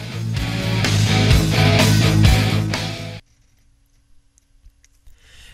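A drum kit recording played without a noise gate, dense and loud for about three seconds with steady hits and ringing bleed, then cutting off to near silence with faint ticks.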